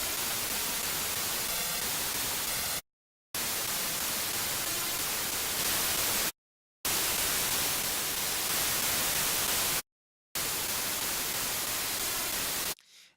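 Broadband mono noise from a synthesizer's noise oscillator, a steady hiss like static playing as a lead patch, heard alone in four sustained bursts separated by short silences.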